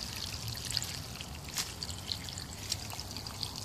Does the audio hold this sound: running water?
yes